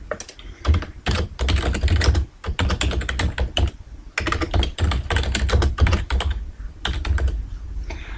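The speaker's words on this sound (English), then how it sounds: "and I'll type the title." Fast typing on a computer keyboard while entering a diagram title in Microsoft Visio 2010, close and steady bursts of key clicks with brief pauses between words.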